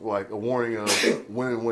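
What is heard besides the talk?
sneeze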